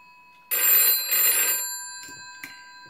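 A mechanical bell in an old GPO 746 telephone rings in two quick rattling bursts, loud and close, followed by a couple of faint ticks as it falls quiet.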